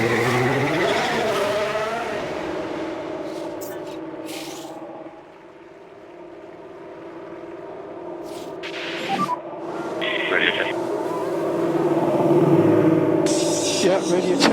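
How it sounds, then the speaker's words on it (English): F1 race car from the F1 Manager 2023 video game heading out on track, a loud sustained engine drone that dips and rises with shifting pitch, with brief clicks and bursts over it. "let's get a car out on the track for its first run and see how it goes."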